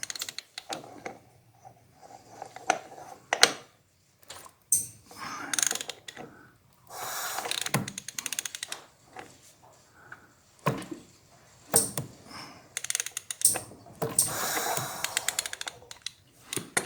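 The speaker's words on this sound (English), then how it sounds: "we're going to spin the motor over to get it to the low point" Someone turns a Harley engine over by hand with a ratchet, producing close, sharp clicking bursts in irregular clusters with quiet gaps between them. Faint mechanical clunks are mixed in.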